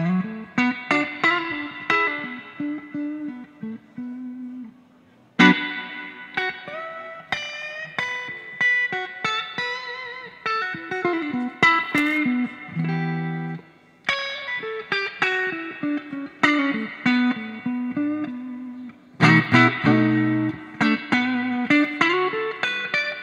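Electric guitar played through a Fender Bandmaster amp with its reverb on, chiming chords and single-note runs ringing out with a spacious wash between phrases, short breaks separating several passages, loud and close with no talking.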